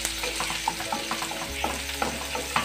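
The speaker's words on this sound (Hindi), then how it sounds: "अच्छे से मिलाते हुए चलाएंगे। लाल होने तक हम इसको फ्राई करेंगे," Onions and green chilies frying in oil for chana dal fry, with a steady close sizzle and repeated scraping, clattering strokes of a spoon stirring through the pan.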